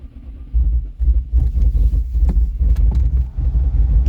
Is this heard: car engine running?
yes